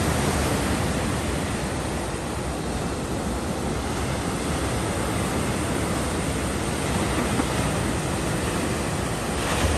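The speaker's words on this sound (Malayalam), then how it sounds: "തിര എണ്ണിയിരിക്കാം കേട്ടോ." Sea waves breaking on a beach make a constant loud roaring wash of surf, close by, with no pauses and wind mixed into the steady noise.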